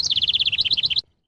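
Bird chirping, a rapid run of about fifteen bright, even tweets in a steady trill lasting about a second, loud and close, then cutting off to silence.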